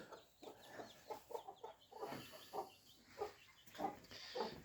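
Farmyard geese on a French farm after chasing, giving a run of short honks and clucking calls in uneven bursts, moderately close but quiet, with no talk over them.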